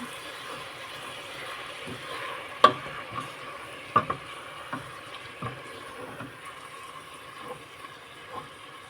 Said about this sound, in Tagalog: Halo lang siya ng halo guys. Hanggang sa mag-iba yung texture ng karne ng baka.